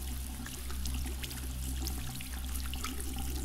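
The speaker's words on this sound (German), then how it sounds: "Ja, das ist die Dusche." Shower water running in the Among Us video game, a continuous splashing pour over a low steady hum, moderately quiet and unbroken, with no talking.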